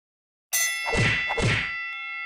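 A bright bell-like ding sound effect strikes twice in quick succession, ringing with sustained metallic overtones that linger and fade, heard alone with no talking.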